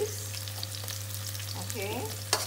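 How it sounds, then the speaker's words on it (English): Curry leaves crackle and fry in hot oil for mutton liver masala, a steady close sizzle with light stirring and a low background hum, ending in a brief louder clatter. "I'm adding in my curry leaves."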